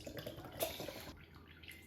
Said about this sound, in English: So now we're just gonna pour it in.